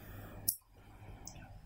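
A single soft, sharp computer mouse click stands out against a quiet background hiss, followed by a fainter tick a moment later.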